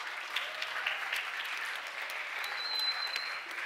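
Audience applause at a global goals forum, a steady broad wash of clapping from a crowd held at an even level throughout, with no talk over it.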